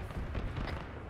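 Autocannon fire from a BMP-2 in ArmA 3 booms in a short, heavy burst of low, rolling reports, fairly faint and muffled as if from a distance.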